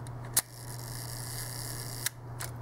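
A Rolleiflex 2.8F twin-lens camera's leaf shutter fires at a one-second setting: a crisp click opens it, a second click closes it about 1.7 seconds later, then another faint click, all over a steady low mains hum.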